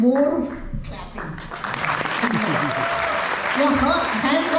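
Audience clapping at a Republic Day commemoration held by a Hindu council in Brent, a steady, fairly loud wash of applause from a crowd with voices mixed in.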